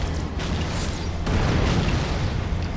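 A plasma grenade goes off in the Halo 2 video game, a loud, dense booming blast that swells midway and sustains a rumbling roar throughout.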